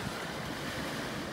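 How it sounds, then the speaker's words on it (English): Great Lakes waves wash onto a Michigan shore as a continuous broadband rush of surf with wind noise on the microphone, steady and fairly faint with no distinct individual breaks. "just enjoying the sound of the waves"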